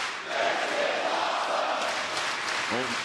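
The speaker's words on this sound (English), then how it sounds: "This crowd's been great tonight." A large arena crowd at a live AEW Dynamite wrestling broadcast in Sacramento roars and cheers in a continuous wash of noise, with a commentator's voice briefly rising over it near the end.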